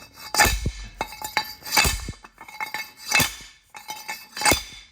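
Repeated metallic clanks ring out as a pipe is struck down like a slide hammer onto a 2011 Jeep Wrangler Sport rear axle bearing, about six heavy hits with a short ringing tone after each.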